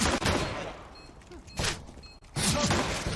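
Glock pistol fire in Counter-Strike at a pro match, a few sharp shots and bursts separated by short gaps, with faint in-game mechanical clicks and footsteps between, loud and close.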